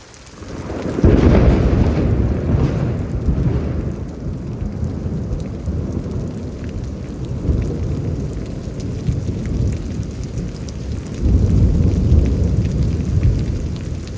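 Heavy rain pours steadily through a thunderstorm in Houston, Texas, with deep rolling thunder swelling loud near the start and again toward the end, no voices present.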